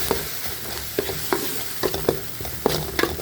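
Ginger, green chili and garlic paste frying in a pan for a mutton peanut masala, with a steady close sizzle broken by regular scraping stirs of a spoon, and no talking.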